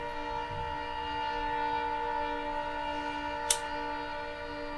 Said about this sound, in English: We go let the train get his time real quick